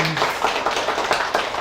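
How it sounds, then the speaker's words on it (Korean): A church congregation at a Sunday worship service claps to welcome a visiting pastor, a steady patter of many hands filling the room, with a brief voice at the very start. "우리 박수 한번 환영하도록 하겠습니다."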